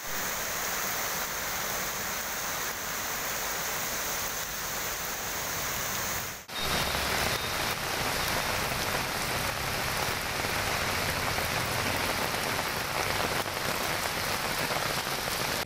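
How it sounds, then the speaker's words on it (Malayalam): Heavy northeast-monsoon downpour in Kothamangalam town with water running across the roads, a dense continuous hiss of rain on surfaces that briefly dips and then roars on louder and unbroken. "ഇടിമിന്നലിന്റെ അകമ്പടിയോടെയായിരുന്നു പെരുമഴ"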